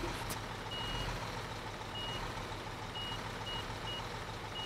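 A truck reversing in the Bau Simulator 2015 construction game, its high, thin backup beeps repeating at intervals over a steady, loud diesel engine drone, with no talking.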